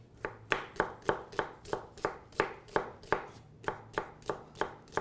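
A knife rough-chops vegetables on a cutting board in a fast, even run of about a dozen crisp, close thuds, with no voices.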